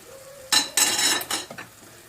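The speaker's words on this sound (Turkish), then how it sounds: "karıştıracağım. Arada çevireceğim." Spoon stirring and scraping vegetables in a pan while cooking a spinach-stem dish with celery, a few loud clattering strokes with a soft sizzle between them, close and without talk.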